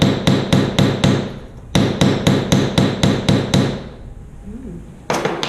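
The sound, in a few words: hammering metal to texture jewellery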